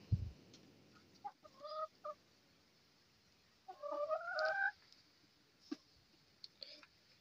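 Chickens at a homemade feeder give a few soft clucks and a louder, longer run of calls near the middle, with quiet gaps and small scattered sounds between them. No talking.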